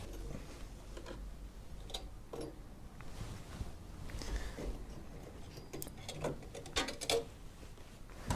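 Processor fan being unclipped from a PC motherboard, faint plastic ticks and small snapping clicks repeating irregularly at close range, soft and quiet.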